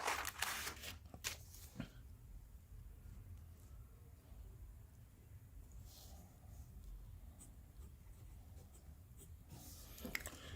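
Pen or pencil writing out a maths solution by hand on paper, a quiet scratchy stroking that continues steadily at close range with a few louder rustles at the start and end.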